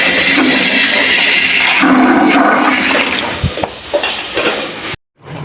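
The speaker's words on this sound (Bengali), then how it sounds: "পাবদা মাছগুলো প্রথমে বাজি করে নিয়েছে পরে টমেটো দিয়ে ভুনা করতেছে" Pabda fish, first fried, now simmering with tomato in a pan, giving a continuous loud hiss and sizzle with occasional stirring scrapes, close up and steady, cutting off abruptly near the end.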